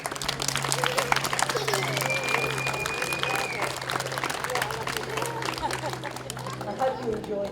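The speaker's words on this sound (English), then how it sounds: "please give those two lovely, wonderful Lithgow ladies a huge round of applause" A crowd applauds at an Australia Day event in Lithgow, steady dense clapping with chatter and a low hum running beneath, holding at an even level.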